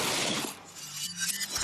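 Shotgun pellets striking laminated car windshield glass: a loud, sustained shattering crash with gritty crackling and clinking fragments, heard alone and dense from start to finish.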